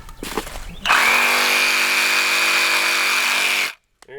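Chainsaw cutting wood, revving up and holding a loud, steady whine for about three seconds before cutting off abruptly, with a few faint knocks and a voice before it starts.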